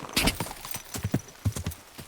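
Horse hooves clip-clop on the ground in the medieval video game Kingdom Come: Deliverance II, a quick, close series of about a dozen sharp, uneven hoofbeats with no voices.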